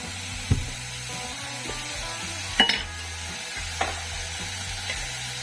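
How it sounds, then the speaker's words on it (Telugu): Chopped tomato fries in oil for a chutney, a low steady sizzle joined by several sharp knocks and scrapes of a utensil against the pan as it is stirred. "కొద్దిగా ఆయిల్ వేసుకొని టమాటాను కూడా ఫ్రై చేసుకోవాలి"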